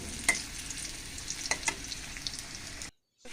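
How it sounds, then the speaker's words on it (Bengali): Taro stems frying in a pan after fish, giving a continuous close sizzle with a few scraping stirs, then cutting off abruptly into near silence at the end. "এখানে আমি কচুর ছুরিটা ভাইজা নিতেছি"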